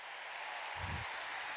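A church audience gives a dense, steady wash of applause that runs throughout, with a brief low rumble of voices partway through.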